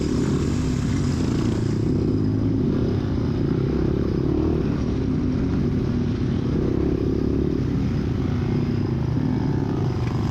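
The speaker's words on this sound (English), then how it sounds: "I can hear bikes behind me ripping and tearing, wanting to get going." Dirt bikes rev and roar together at the start of a motocross race, a dense, continuous engine drone that stays loud and steady throughout.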